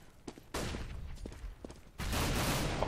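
Rapid bursts of gunfire crackle and rumble in Counter-Strike on de_dust2 during a tournament match, with a loud sustained volley toward the end.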